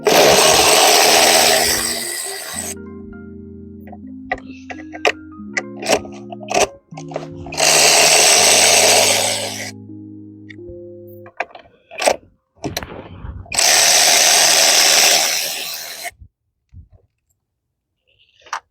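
A power tool, likely a cordless impact driver or electric ratchet, removes the 8mm coil pack bolts on a 2014 Ford Fusion engine. It makes three long, loud whirring bursts, with scattered ratcheting clicks and metallic handling noises between them.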